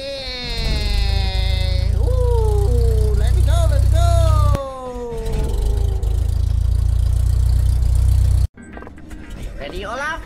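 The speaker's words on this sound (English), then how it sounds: "Alright, start the engine." A toy fire truck engine starts in a play story, a low, steady rumble under lively talking voices that stops suddenly partway through.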